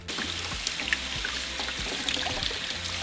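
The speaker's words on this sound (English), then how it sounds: "after we have removed the seeds from our chiles, we are going to give them a good rinse." Dried New Mexico chile pods rinsed under running tap water, a steady close splashing stream with small drips and no talk, lasting the whole stretch.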